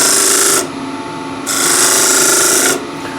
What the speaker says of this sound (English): I have a spear point scraper here